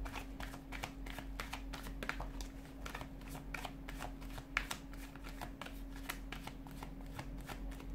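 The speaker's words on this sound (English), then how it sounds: "give the cards a shuffle" Tarot cards being shuffled steadily, a rapid run of crisp riffling flicks and soft slaps that stays close and fairly quiet against a low steady hum, with no talking.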